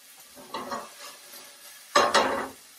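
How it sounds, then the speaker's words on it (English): Onions are dropped into a hot pan and stirred, with a quiet scrape and light sizzle followed by a louder burst of sizzling and clatter up close. "I'm going to add some of my onions that I've already prepped."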